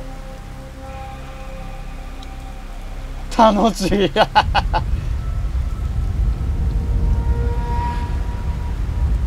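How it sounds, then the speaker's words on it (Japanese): Driving sideways rain in the video game Mini Ninjas: a brief burst of game effects gives way to a steady, loud rushing hiss of rain that continues to the end, with a voice speaking briefly. "横殴りの雨。"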